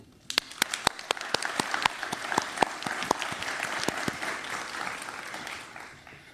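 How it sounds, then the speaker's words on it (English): An audience at a summit starts applauding with a few sharp, separate claps that quickly swell into a steady round of clapping from a modest crowd before easing slightly at the end. "Let's have a round of applause."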